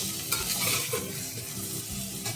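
Gular fruit frying in hot oil, a dense steady sizzle with occasional stirring scrapes and soft bubbling, close and continuous.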